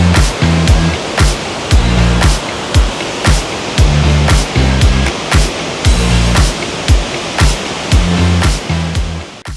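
Waterfall in Alberta's Waterton area pours in a loud, close, continuous roar, overlaid with regular rhythmic thumps recurring throughout.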